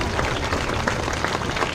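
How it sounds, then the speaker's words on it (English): Crowd applause at a Little League closing ceremony honoring the neighbors, a dense steady patter of many hands clapping throughout at close range. "let's give a round of applause for our neighbors"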